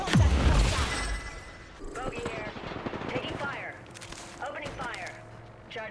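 Gunfire in a video game: a loud burst of shots opens, then lighter scattered firing continues in the background beneath voice-like sounds.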